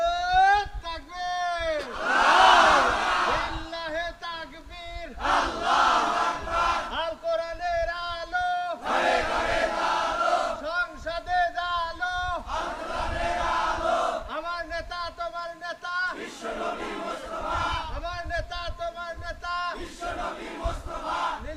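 At a huge outdoor religious rally in a Dhaka park, a massive crowd roars a rhythmic takbir chant in repeated loud surges, a leading voice calling out and thousands of voices answering, echoing and sustained.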